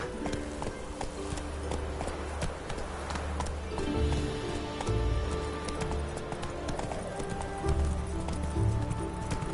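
A horse gallops in The Witcher 3 video game, its rapid rhythmic hoofbeats pounding steadily and close throughout, with faint background game ambience.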